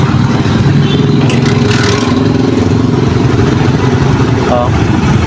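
A Honda CT100 motorcycle engine running weak and lacking power even at full throttle, a loud continuous buzzing idle close to the microphone, with someone talking over it.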